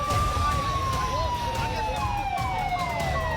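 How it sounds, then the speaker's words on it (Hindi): A loud wailing siren from a speeding blue police van sweeps downward and repeats, rising over traffic noise as the van passes close by. "सायरन बजाती, फर्राटे से दौड़ती ये जो नीली वैन देख रहे हैं"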